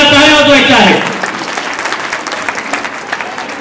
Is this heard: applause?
yes